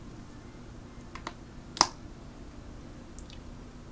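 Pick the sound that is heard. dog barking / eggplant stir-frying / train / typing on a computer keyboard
typing on a computer keyboard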